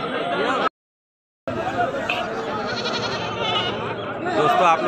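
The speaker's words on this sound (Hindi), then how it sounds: "ये देखिए बकरी खसी है।" Castrated goat bleating at a busy Sunday goat market in Bahraich, India, brief bleats mixed with crowd chatter and someone talking nearby, the sound cutting out briefly before resuming.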